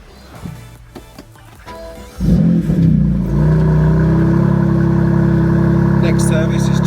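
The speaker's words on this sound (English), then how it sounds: "going to start the car up for you." A 2020 BMW M2 Competition 3.0 bi-turbo engine cranks and fires after a few quiet seconds, flaring briefly before settling into a loud, steady, close idle.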